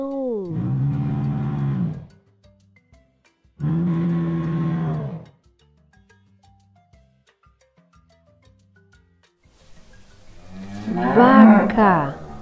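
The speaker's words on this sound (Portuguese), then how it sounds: "Vaca." A cow moos loudly and close, two long low bellows separated by a pause, then a third rising, harsher moo after a quiet gap with faint background music.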